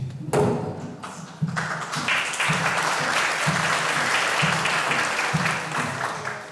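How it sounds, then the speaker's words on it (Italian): An audience at an Italian cultural institute event on the Neapolitan academy in Athens breaks into sustained applause, dense clapping rising quickly and holding steady, with a few low thumps beneath. "io devo fare un applauso io a voi"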